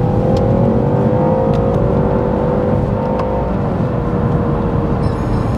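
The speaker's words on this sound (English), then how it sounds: "the engine I think just came on" A 2021 BMW 5 Series G30 engine running while driving, a loud steady drone with a smooth rising and falling tonal hum and continuous road rumble from inside the cabin.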